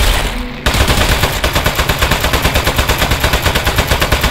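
Rapid automatic gunfire in the video game Aperture Desk Job, a steady loud burst of regularly spaced shots running continuously after a brief moment of quieter sound.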